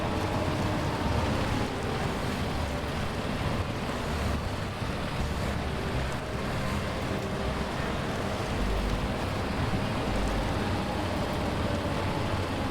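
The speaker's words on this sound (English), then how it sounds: "I do like the sound of this engine as well. It sounds like the twin steer, the 6900 twin steer." A 6900 twin-steer truck engine drones steadily and loudly from inside the cab while hauling, a broad, unbroken rumble mixed with road and wind noise and no talking.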